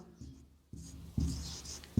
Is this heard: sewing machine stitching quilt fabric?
no